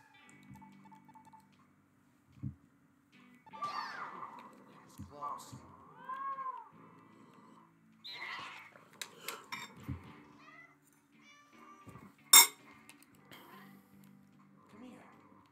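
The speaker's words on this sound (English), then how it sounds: "we've got more important things to worry about, like playing with the cat" A cat meows in the No More Heroes 2 video game, giving a few separate, fairly quiet meows among sparse ticking game sounds, with someone talking between them.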